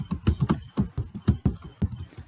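Rapid, uneven keystrokes on a computer keyboard, close and fairly loud, about a dozen clicks in quick bursts with short pauses and no voices.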